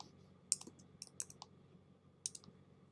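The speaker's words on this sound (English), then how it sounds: "so I'm going to type in backpack." Scattered light clicks of typing on a computer keyboard, a few quick keystrokes in small bursts over quiet room hum.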